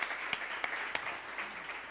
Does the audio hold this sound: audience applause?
yes